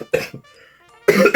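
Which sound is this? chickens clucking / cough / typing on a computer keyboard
cough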